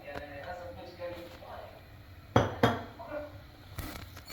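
A cooking pot is set down to heat oil, giving two sharp metallic clanks in quick succession. The clanks sound amid kitchen clatter, with a person talking throughout.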